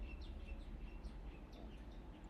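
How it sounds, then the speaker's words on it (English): Faint bird chirps repeat over a steady low background rumble, distant and soft, with no voices. "I hear a bird sing."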